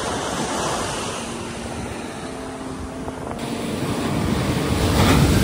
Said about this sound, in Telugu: విండ్ ఫ్లోకి చూడండి వాటర్ అలా ఎట్లా పడుతున్నాయి.